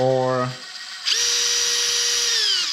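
An electric power drill, set so a slight trigger pull sends it racing, whines up sharply to full speed and holds a steady high-pitched spin, following a brief spoken word.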